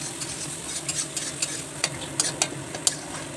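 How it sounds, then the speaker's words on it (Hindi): Tomatoes and spices frying in a pan for egg curry, a steady close sizzle broken by light stirring scrapes and clicks of the spoon against the pan. "उनसे टमाटर को गलने तक फ्राई कर"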